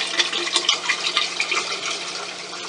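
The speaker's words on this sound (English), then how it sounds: "So let's top off these containers real quick and then get them into the 125." Dissolved soda ash solution pours steadily into containers for a saltwater aquarium, a continuous close splashing and gurgling stream of liquid filling the vessels, heard alone without talk.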